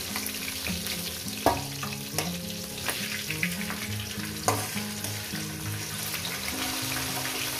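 Fish heads sizzle steadily in a hot pan for a cabbage dish, with occasional sharp clanks of a utensil against the metal; no one speaks.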